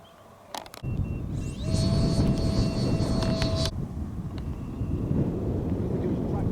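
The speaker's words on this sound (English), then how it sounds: "Oh, it's an aeroplane, look." A loud, broad roar of an airplane flying overhead swells in and rumbles on steadily, a brief whine riding over it for a few seconds.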